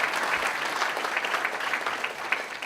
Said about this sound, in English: Applause, yes, applause now would be good.